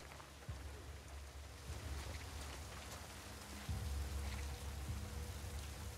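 Rain falling steadily in The Last of Us Part II, a soft continuous patter on surfaces with occasional low thumps, quiet and even throughout with no voices.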